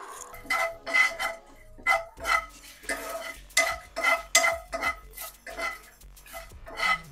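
Ingredients roasting in a little oil in a pan for a chicken donne biryani masala, with a spoon scraping and clattering against the metal in repeated bursts over steady background noise.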